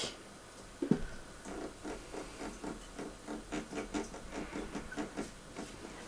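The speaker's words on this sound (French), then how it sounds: "dans le robot je vais le mettre à chauffer pendant 2 minutes à 100 degrés" A kitchen robot food processor heats milk at 100 degrees with a soft, rhythmic ticking and whirring. A sharp knock comes near the start, and then faint regular pulses repeat steadily, quiet and close.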